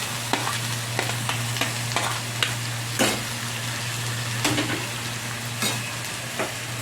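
Chopped chilli, ginger and garlic fry in hot oil with onion for chicken momo filling, a constant close sizzle under a low hum, broken by repeated spatula scrapes and clatters as the pan is stirred; no voices.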